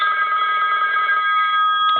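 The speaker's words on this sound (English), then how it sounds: "the yellow one is hooked up into the line right now, so that's why it's ringing" A yellow Western Electric rotary telephone on a live line rings in one continuous, loud bell burst with a steady metallic buzz that fills the short moment, with no voices.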